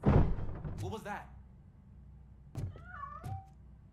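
A cat character in the game Randolf Cobb: Shanty Town Shenanigans gives a couple of short, rising meows after a soft thunk, with a voice briefly speaking at the start.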